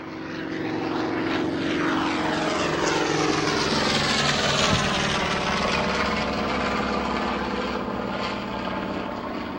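A gull-wing Corsair propeller aircraft roars past, its engine loud and close, with a sustained droning growl and sweeping pitch shifts as it passes overhead.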